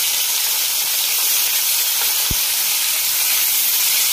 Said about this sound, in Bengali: চিংড়ি মাছটা হালকা করে ভেজে নেবো